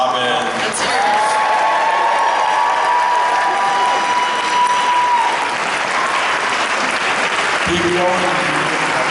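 Audience applause and cheering fill a costume-convention closing ceremony, steady and loud throughout, with a voice speaking over the crowd near the start and again near the end.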